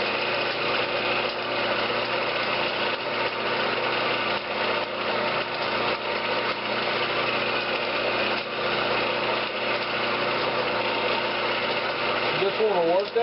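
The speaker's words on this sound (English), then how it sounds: "just fixing to buff it" A wood lathe spins a spiral-pierced maple vase during waxing and buffing, giving a continuous high-pitched motor whine with steady vibration under it throughout and a brief rising squeal near the end.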